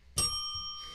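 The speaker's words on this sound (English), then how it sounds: "That was Travis giving you a bell for that one." A single bell dings once, clear and close, and its bright ringing tone sustains and slowly fades over the next second. No one speaks.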